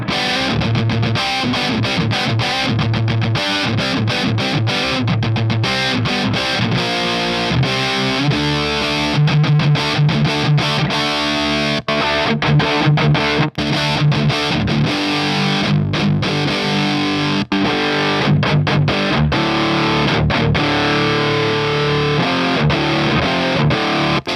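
Heavily distorted electric guitar through a Sunless Effects Dark Ages amp-in-a-box pedal plays chugging riffs and chords, loud and continuous with brief stops, a saturated, crunchy tone filling the whole stretch.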